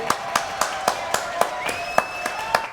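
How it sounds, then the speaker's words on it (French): An audience claps for a child named Kenzo on a live television show, a quick run of about ten even claps over a faint background tone, with speech nearby. "Bon, on l'applaudit, Kenzo."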